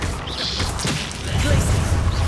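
Accio summoning spell cast in the Hogwarts Legacy video game on PS5: a whooshing magical burst with crunching impact sounds over dense game noise and low rumble, with a voice in the mix.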